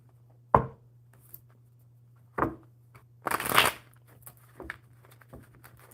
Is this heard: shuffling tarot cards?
yes